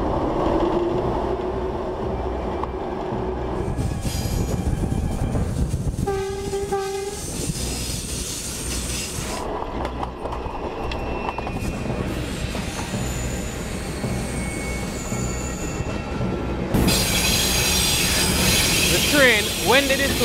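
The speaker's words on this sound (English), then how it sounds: "the train with 12 wooden carriages left the train station in downtown Kingston" A train of wooden carriages rolls along rails with a rumbling clatter, repeated horn blasts sounding out over it, and wheel squeal rising near the end, close and loud throughout.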